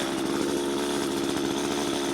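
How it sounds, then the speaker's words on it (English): A chainsaw revs continuously at high speed while felling a dead spruce tree, a loud, steady, close engine whine with no pauses or talk. "now I have to rev this chainsaw"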